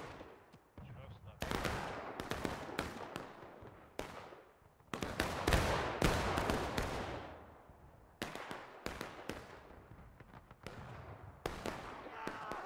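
Artillery fire in the War of Rights game, a series of loud booming cannon blasts and sharp cracks that come in irregular clusters, with reverberant tails between shots.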